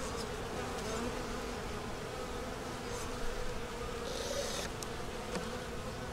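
Honeybees drone in a steady, dense buzz at an open hive, close and continuous for the whole stretch.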